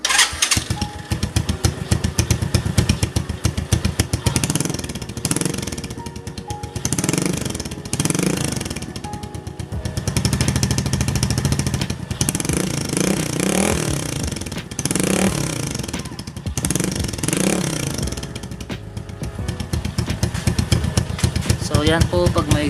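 A motorcycle engine fitted with a DBS exhaust pipe and silencer idles and revs with a muffled, steady exhaust rumble, rising in a few bursts of throttle, close by and loud throughout.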